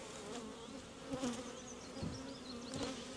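Honeybees hum steadily around an open hive while a beekeeper checks queen introduction in nucs and production colonies, a close, continuous buzz with a few louder swells as bees pass by.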